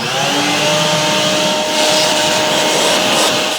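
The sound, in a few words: vacuum cleaner sucking debris off a Triumph TR4 gearbox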